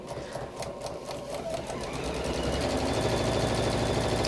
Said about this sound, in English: just sew very quickly along there